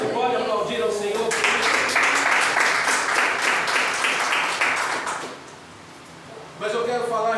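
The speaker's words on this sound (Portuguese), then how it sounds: "Você pode aplaudir ao Senhor." A church congregation claps together in a dense, sustained burst of applause lasting several seconds, fading briefly before a speaking voice resumes; a voice is also heard over the start of the clapping.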